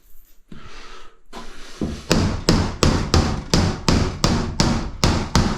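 Hammer driving nails into sheeting on a bathroom wall, a steady run of about eleven sharp, loud, evenly spaced blows after a few scattered knocks at the start, close and with no talk.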